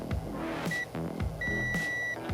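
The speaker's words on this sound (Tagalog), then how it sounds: "Kasi magkakaroon siya ng long beep." A digital multimeter on continuity test sounds a high electronic beep while probing an SMD inductor on an iPhone or iPad board: short chirps, then one long sustained tone, mixed with faint probe clicks and taps.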